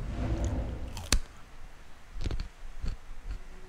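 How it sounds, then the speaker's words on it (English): Wet, crunchy chewing from a character in a video game cutscene, with a few irregular bites and mouth clicks spread over several seconds, close and moderately loud over a low background hum. "Can you chew any louder"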